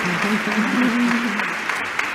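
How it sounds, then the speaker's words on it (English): An audience claps steadily for a panel of speakers, warm continuous applause filling the room, with a faint voice underneath. "give a nice warm-up round of applause to all my panelists"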